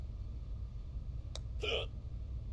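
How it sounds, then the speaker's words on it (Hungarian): A short hiccup sound effect from the zombie-screening game Quarantine Zone: The Last Check, a faint brief catch followed by a slightly longer hiccup over a steady low background hum. "Igen, a csuklás."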